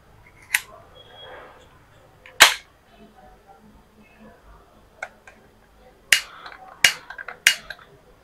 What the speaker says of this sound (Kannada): ಆಕ್ಚುಲಿ ಇದು ಸಿಗರೇಟ್ ಲೈಟರ್, ಆದ್ರೆ ನಮಗೆ ಗೊತ್ತೇ ಆಗೋದಿಲ್ಲ.